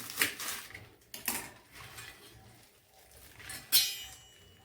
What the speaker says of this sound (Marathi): याच्या देठासहितच आपल्याला छान याला बारीक चिरून घ्यायची आहे